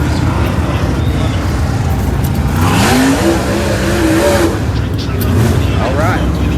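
Hot rod race cars rev and drone at I-55 Speedway, a dense loud engine roar with rising and falling pitch sweeps and a few revving bursts, set in a crowded racing pit with voices talking under the noise.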